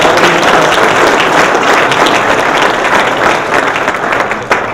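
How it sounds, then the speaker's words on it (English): An audience at a junior golf tour awards banquet applauds, a dense, loud burst of clapping that carries steadily from start to finish and tapers slightly at the end. "if we give them a round of applause"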